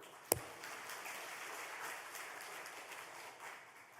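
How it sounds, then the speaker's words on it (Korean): A church congregation applauds during a sermon on forgiveness, a faint, even wash of clapping that runs steadily throughout, opened by one sharp knock near the start. "용기와 집념의 아기 사자를 향해서 박수 한번 칠까요?"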